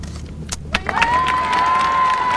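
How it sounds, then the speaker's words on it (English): Spectators around a golf green at the 1988 Lancome Trophy burst into cheering and applause, a broad, distant crowd roar swelling after a few scattered claps, with a faint whistle-like tone running through. "There they cheer"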